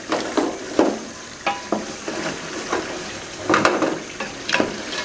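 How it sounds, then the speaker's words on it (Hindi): A spoon stirs and scrapes sizzling masala for Lahori-style beef paya (beef trotters) in a pot. Repeated scraping strokes ride over a steady frying hiss. "आपने चम्मच को हिलाते जाना है ताकि मसाला नीचे ना लगे।"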